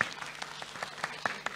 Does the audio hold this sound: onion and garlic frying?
no